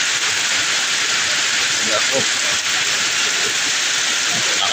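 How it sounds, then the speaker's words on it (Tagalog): Heavy rain pours down outdoors in a dense, steady roar that fills the whole stretch, with someone speaking briefly over it. "So, lumakas ulit yung ulan."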